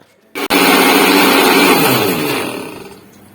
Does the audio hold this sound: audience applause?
no